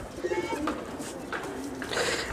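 Pigeons in a loft give soft, low repeated coos close by, a few calls overlapping against a quiet room background.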